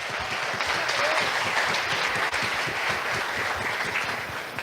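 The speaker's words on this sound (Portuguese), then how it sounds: "Pode aplaudir ao Senhor Jesus." A church congregation applauds in a steady, dense round of clapping that holds for several seconds at full strength.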